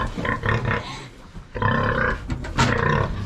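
Pigs in a barn squeal and grunt loudly and continuously in close, overlapping bursts that sound like a scuffle, with no voices over the noise.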